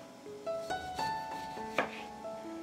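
A knife cuts through a lemon on a board in a few crisp, separate chops, close by, over soft background music.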